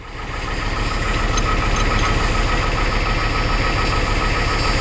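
A 1985 6.9-liter diesel engine idling after a cold start, a loud, steady, close clattering rumble with a fast rhythmic knock that swells at the start and then holds even.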